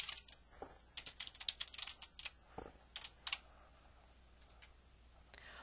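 Typing a comment on a computer keyboard in a blog's text box, with clusters of quick key clicks and pauses, close and fairly quiet, ending in softer scattered taps.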